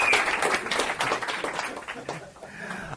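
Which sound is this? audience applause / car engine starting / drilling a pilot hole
audience applause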